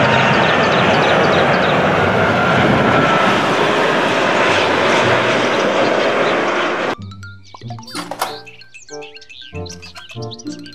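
A toy airplane makes a loud, steady roaring engine whoosh for about seven seconds, then cuts off abruptly into brighter chirpy electronic toy tones and beeps.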